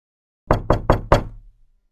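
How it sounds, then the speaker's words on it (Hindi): Four quick, firm knocks on a door, close and loud, evenly spaced with a short fading tail and no voices. "फिर से दरवाजे पर खटखट होती है"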